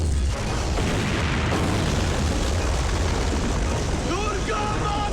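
Heavy weapon fire and a thunderous explosion in a Kargil war film battle scene, a deep sustained roar with rumbling low end and crackling debris throughout, loud and dense from start to finish.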